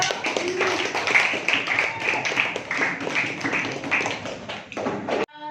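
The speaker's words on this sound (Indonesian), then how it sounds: "Oke, aplaus untuk kelompok 1." A classroom group in Indonesia claps for the presenting team, a dense patter of many hands lasting about five seconds, with voices mixed in, before it stops abruptly.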